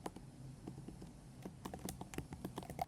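A quick run of soft, close keystrokes on a computer keyboard, with uneven clicks and taps as a word is typed during web design work.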